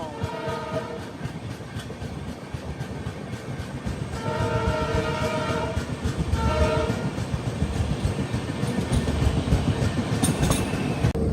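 A passenger train from Secunderabad to Goa runs near Vasco, past the airport. It gives a steady rumbling roll with repeated horn-like tonal blasts, heard close and continuous.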